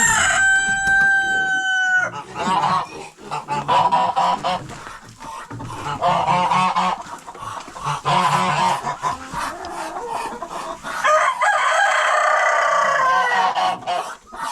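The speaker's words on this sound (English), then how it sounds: "Chickens, roosters, we got ducks over there." Roosters crow and chickens cluck in a coop on a rural Serbian farm, with honking geese or ducks joining in; loud, overlapping calls repeat near the microphone throughout, with no talking.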